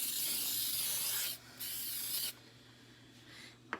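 Cooking spray hisses steadily onto a grooved rose-shaped bundt pan in two long close bursts with a brief break between them, followed by quieter room sound and a small knock at the end.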